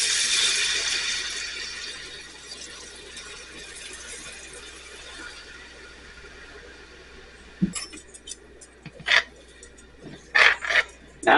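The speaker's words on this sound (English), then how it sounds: "We're gonna add our water." Water is poured into a pot of softened sauteed onions for brisket gravy, a hissing rush that fades away, followed by several sharp clinks and scrapes of utensils against the pot.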